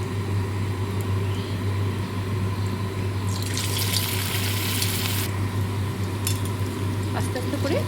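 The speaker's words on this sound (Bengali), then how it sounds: "এবারে একটা একটা করে ডুবো তেলে আমি ভেজে নেব" Slices of bread fritter dropped one at a time into deep hot oil for frying, giving a steady hiss and sizzle with a louder bubbling burst midway, heard alone with no talking.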